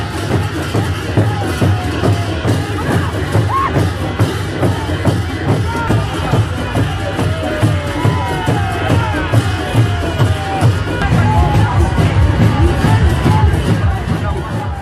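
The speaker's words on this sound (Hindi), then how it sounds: "पूर्वोत्तर में बीजेपी के चाणक्य हेमंत बिस्वा शर्मा ने पर्चा भरने गए तो हजारों की संख्या में कार्यकर्ता सड़कों पर जमा हुए।" Thousands of BJP workers pack the streets of Guwahati as Himanta Biswa Sarma goes to file his nomination. A loud, steady hubbub of many voices and shuffling feet rolls on without a break, with a few scattered bangs.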